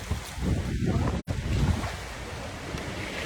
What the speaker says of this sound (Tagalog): yung umaagos na tubig pupunta doon